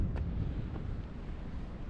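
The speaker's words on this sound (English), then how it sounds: "It is a little bit windy" Steady low wind rumble buffets the microphone on castle battlements throughout, a continuous gusty roar with no voices.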